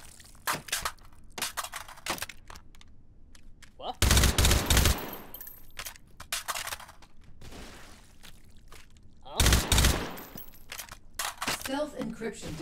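Rifle gunfire in a first-person shooter game, the AK sounding as loud bursts around 4 to 5 seconds and again near 9.5 seconds, with scattered smaller shots and clatter between, under occasional talk.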